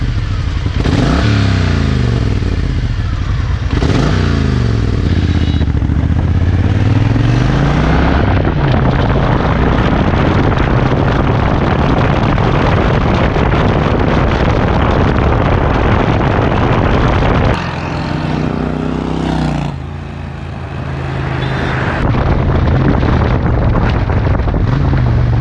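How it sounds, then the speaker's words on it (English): A Triumph Thunderbird Storm 1700cc cruiser motorcycle being ridden gives a loud, steady, close engine rumble. Rising rev sweeps come near the start, followed by a long stretch of constant drone with a brief dip late on. "It was a really different experience riding this huge cruiser motorcycle."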